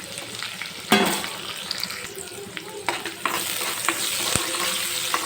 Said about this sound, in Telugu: ఆనియన్స్ అయితే ఫ్రై అయ్యే వరకు ఇలా వేయించుకోవాలి